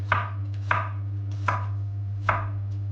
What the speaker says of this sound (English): again we cut some garlic